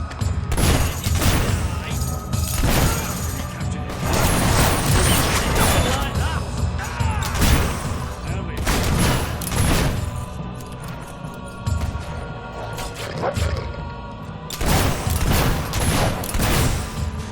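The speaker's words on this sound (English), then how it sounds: "Sounds like some of the guards are still fighting in there." Guards fight inside a fortress in the Warcraft video game, with dense bursts of gunfire, crashes and booms. The battle noise is loud and continuous, with heavy impacts recurring throughout and no voices heard.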